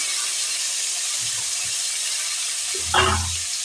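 A tomato fries in hot oil with asafoetida for a watermelon-rind vegetable curry, giving a steady, even sizzle, with a brief louder splutter near the end as the pan is stirred.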